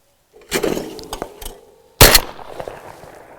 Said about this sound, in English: we're gonna shoot some clays and see how we're gonna shoot today